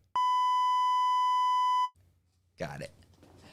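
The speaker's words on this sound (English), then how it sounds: "I want my beeps back" A single long electronic beep sound effect, a pure steady tone held for nearly two seconds, loud and clean, followed by a brief murmur of voices.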